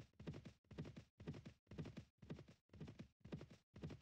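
Horse hooves clip-clopping steadily while riding in Mount and Blade: Warband, an even, regular gait of about two beats per second, soft and alone.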